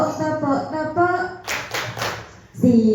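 At a government employee orientation seminar in Surakarta, Indonesia, an audience claps three sharp times in unison, in rhythm after a spoken chant, before a voice leads on and more clapping follows.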